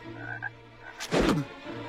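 A frog croaks once, a loud, raspy burst near the middle of a short quiet stretch, picked out for a classroom dissection.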